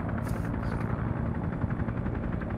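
Helicopter rotor and engine roar in the Arma 3 Vietnam video game, a loud steady thumping drone filling the whole clip with a short high whine near the start and no talking.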